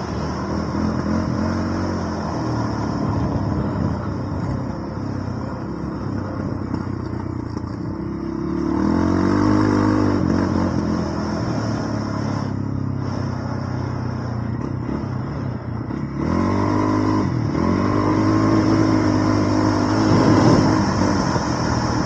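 A 2022 CFMoto CForce 600 Touring ATV fitted with a clutch kit drones along steadily, then surges with louder engine pulls and rattling clatter as the throttle opens, heard from on board.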